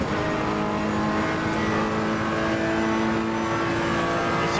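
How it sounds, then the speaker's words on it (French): A Ferrari 488 GT3 racing at Monza in Assetto Corsa Competizione, its engine held loud and steady at high revs as it climbs through the gears toward sixth, droning continuously with no talk. "On monte les rapports jusqu'en sixième."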